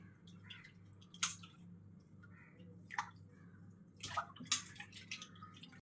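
Raw chicken pieces washed by hand under running water in a home kitchen, with scattered drips, splashes and short gurgling bursts over a low steady hum, fairly quiet and close.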